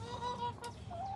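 Chickens clucking softly inside a chicken pen, a steady run of close, low calls with a brief higher squawk partway through, over faint background noise.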